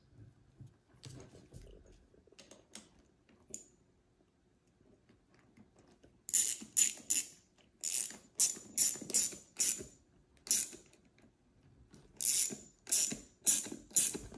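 A ratchet wrench tightens the armrest bolt on an Indian Pursuit motorcycle tour pack, with scattered soft clicks followed by bursts of close, sharp ratcheting strokes in a repeating rhythm; no one speaks.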